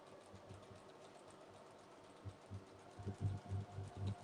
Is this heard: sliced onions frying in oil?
no